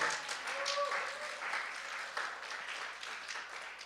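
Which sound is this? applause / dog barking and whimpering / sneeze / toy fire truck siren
applause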